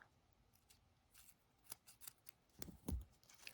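Scissors snipping crochet yarn, a few quiet snips close by that build to one or two sharper cuts near the end, in an otherwise quiet room.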